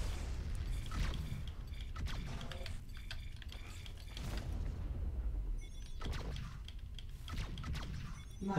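Space combat in the game Rebel Galaxy, with pulse turret shots firing from a spaceship in irregular bursts over a constant low rumble of engines and ambient game noise.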